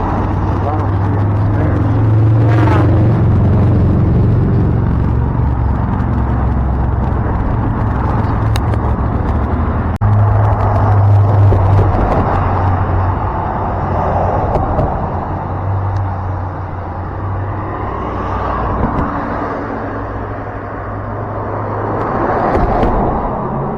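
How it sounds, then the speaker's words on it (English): Cars rolling over a bridge produce a continuous low road rumble and hum, with a few heavier thumps as vehicles pass behind. A voice speaks at times over the traffic. "cars go on behind us, and you can feel a thud thud, and you feel the bridge move ever so slightly"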